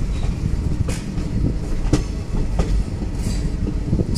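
The Gowthami Express pulls into Lingampalli station with a steady low rumble of rolling carriages and occasional clicks from the wheels on the rails, loud and close throughout.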